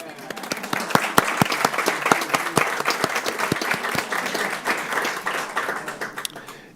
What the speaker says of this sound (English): Do you want to stand and at least let us clap for you?